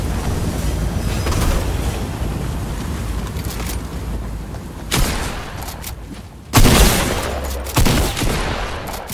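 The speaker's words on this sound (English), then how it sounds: "I can hurry up and get this bear shot here." Gunshots ring out in a video game as a bear is shot, loud sharp bursts rising over a continuous rumbling background, with a strong blast about two-thirds through and a few more after.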